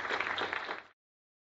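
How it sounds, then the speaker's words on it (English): Audience applause for a speaker at a talk, a dense burst of clapping from a crowd that lasts under a second and then cuts off abruptly. "Big round of applause for Bruce Levine."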